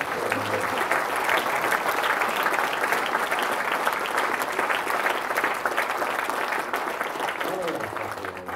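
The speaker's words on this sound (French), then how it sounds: "Oui, on peut l'applaudir" Audience applause for a guest, a loud, dense and continuous roar of many hands clapping that holds steady and eases slightly at the end, with voices mixed in.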